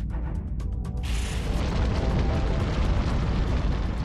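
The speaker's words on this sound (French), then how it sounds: "une étoile mourante explose en supernova" A supernova explosion sound effect: a faint crackling opening gives way after about a second to a massive, sustained roaring boom that rumbles on loudly to the end.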